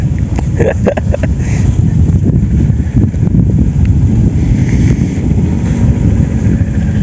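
Strong wind buffets the microphone in a loud, steady roar at an outdoor carp fishing spot by the water, with a few brief clicks and knocks early on and no voices.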